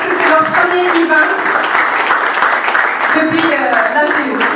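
An audience applauds at a debate event, a dense patter of clapping hands mixed with voices talking and calling out over it, loud and close.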